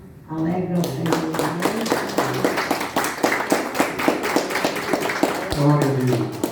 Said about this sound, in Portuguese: Minhas palmas alegram o Senhor